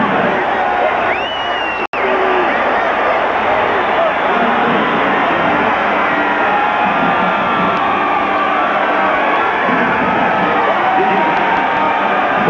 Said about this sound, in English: listen to this fired-up LSU crowd